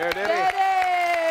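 On a televised singing competition stage, a studio audience claps in a quick, even rhythm for a contestant under a sustained tone, while a voice speaks briefly over it.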